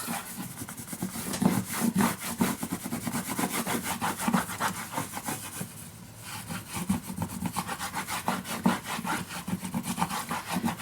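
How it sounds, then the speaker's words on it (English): A bone folder rubs paper flat on an envelope mini album, giving a steady back-and-forth scraping with quick rhythmic strokes that continue for about ten seconds, close and fairly loud, with no voices. "burnish it down with your bone folder"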